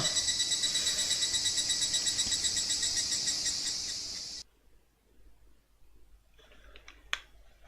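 Cicadas chirping in a video game, a loud pulsing insect drone with a steady rapid rhythm that cuts off abruptly, followed by near quiet with a few faint clicks.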